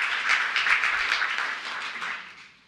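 An audience at an Emancipation Day breakfast gives a warm round of applause, a dense wash of many hands clapping steadily at moderate distance, then fading out toward the end.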